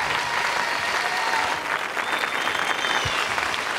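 Audience applauding Frida of ABBA at a 1982 televised appearance, a dense, steady wash of clapping from a large crowd that holds at full strength throughout, with no voices over it.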